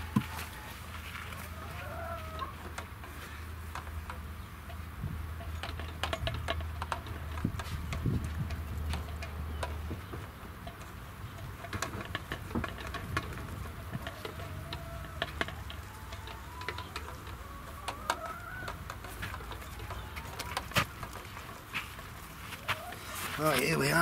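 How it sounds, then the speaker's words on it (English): Chickens cluck and rustle around a garden allotment plot, their soft, scattered calls steady and fairly quiet over low background noise, with no one talking. "I'll leave you to the sound of chickens."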